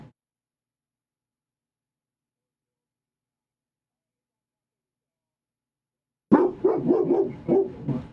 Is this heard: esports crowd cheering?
no